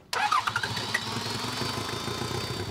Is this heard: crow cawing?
no